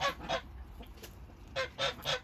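A duck inside a polytunnel gives a series of loud, nasal honking quacks, two quick calls, a lone call, then three more close together against a quiet background.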